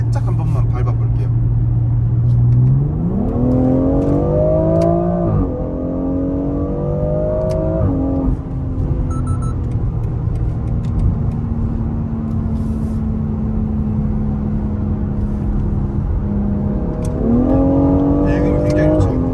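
A BMW X4 M six-cylinder engine in sport plus mode accelerates hard on the road, its exhaust note rising in pitch through several gear pulls, settling into a steady drone and climbing again, loud and close with talk heard inside the cabin.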